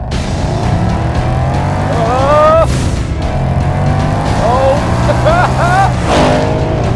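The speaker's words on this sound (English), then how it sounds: "This is the Shelby Supersnake." A 2020 Shelby Super Snake Mustang, an 800-horsepower supercharged GT500-based car, roars loudly with rising engine revs and tire squeal as it accelerates hard up close.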